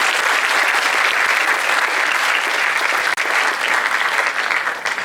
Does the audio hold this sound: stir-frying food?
no